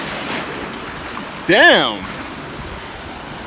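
Steady surf washes and roars along the Sicilian coast, a constant broad hiss of ocean waves with wind, interrupted by a short loud exclamation from a nearby man.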